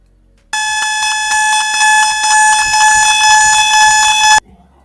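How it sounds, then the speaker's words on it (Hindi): A loud electronic alarm from a driver monitoring system, triggered by closed eyes, rings continuously for about four seconds, a harsh buzzing tone pulsing slightly, then cuts off abruptly. "तो ये देखो, ये अलार्म साउंड करता है"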